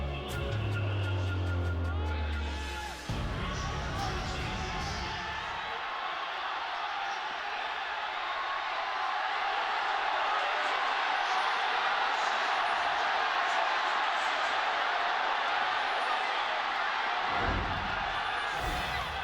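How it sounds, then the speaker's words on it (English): A large arena crowd roars loudly and continuously at a League of Legends LPL Summer Split final, Game 5 between Invictus Gaming and Royal Never Give Up, after a brief low rumble at the start. "The roar from the crowd says it all as we get into this 5th game."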